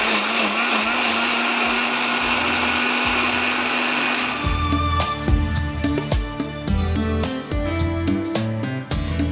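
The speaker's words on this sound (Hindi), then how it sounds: "जब तक हम इसको पीस रहे हैं बारीक प्याज और दही को" A kitchen blender grinds finely chopped onion with yogurt, whirring loudly and steadily before breaking into uneven, pulsing bursts as the motor strains.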